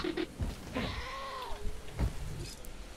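A goat bleats in Jurassic World Evolution, a short wavering call in the middle of a brief stretch of quieter game sounds.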